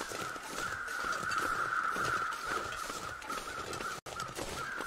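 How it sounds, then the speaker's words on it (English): Crows caw in The Long Dark, a steady game soundscape of harsh bird calls spread across the clip under constant ambient noise, with no talking. "I can hear just a shitload of crows everywhere."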